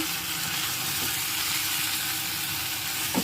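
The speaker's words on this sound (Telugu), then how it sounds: "బాగా ఫ్రై అయిపోయింది" Brinjal and mango curry frying in a pan, a steady close sizzle and crackle running without pause throughout.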